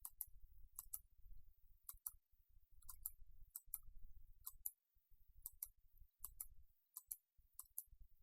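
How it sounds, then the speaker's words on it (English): Sharp computer mouse clicks come one or two at a time at an irregular pace, with faint low rumbling between them in an otherwise quiet room. "I click here, just randomly"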